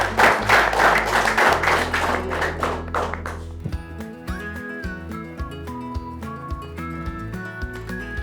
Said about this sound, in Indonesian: Tepuk tangan untuk Kinansang dan Lalasang.